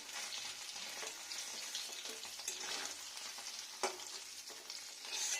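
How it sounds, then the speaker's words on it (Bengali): Paneer and vegetables frying in ghee in an aluminium wok, a steady close sizzle and crackle that runs the whole time with one brief sharper spatter, no talking. "এক পিঠ ভাজলেই হয়।"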